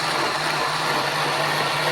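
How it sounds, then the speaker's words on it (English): Blender running at full speed blending mango with milk, a loud steady motor whine with a constant low hum and churning wash, unbroken for two seconds with no speech. "I'll put everything in my blender, and the liquid that is going to help me blend everything up is my milk."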